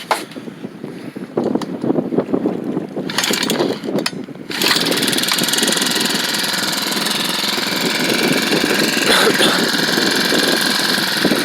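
A SEDEG 1.5 hp four-stroke air-cooled outboard motor is pull-started: a few rattling tugs, then it catches and runs with a loud, steady, buzzing drone until the end.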